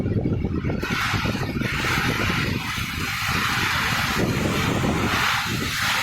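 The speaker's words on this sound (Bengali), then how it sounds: "ঝোড়ো হাওয়া চলছে" Stormy wind roars steadily during a heavy morning downpour, with rain drumming on a tin roof, a dense continuous wash of noise with no voices.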